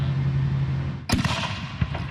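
A firework blasts off in a fireworks safety demonstration: one sharp, loud bang cuts through a low steady hum, followed by crackling debris and a smaller pop a moment later.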